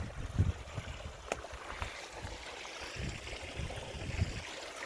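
Mountain spring water flowing above the surface in a meadow complex in the San Jacinto high country, a steady, soft outdoor wash with low gurgles and brief splashes, heard alone with no talk.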